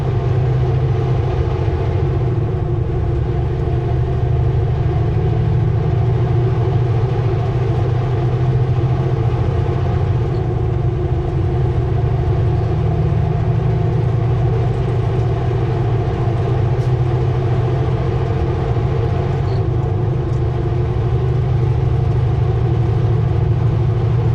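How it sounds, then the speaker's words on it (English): A truck engine with a big exhaust leak drones steadily and loudly throughout, a constant low rumble with no talking over it. "he's got a big exhaust leak too"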